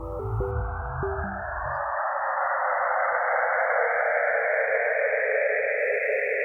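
NASA sonification of an image of Saturn's rings: brief low pitched tones fade within two seconds into a broad, hissing band of airy noise that sweeps slowly upward and holds steady, continuous without speech.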